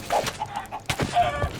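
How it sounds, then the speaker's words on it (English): Zombified chickens in a video game clucking rapidly and frantically, several overlapping squawks and clucks close by in quick, agitated bursts. "Why are the chickens attacking me?"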